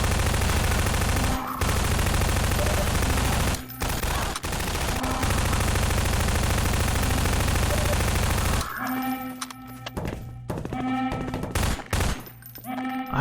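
Dense submachine gun fire in a video game rooftop battle, loud and nearly continuous for most of the stretch with brief breaks, then thinning into scattered bursts and shots toward the end.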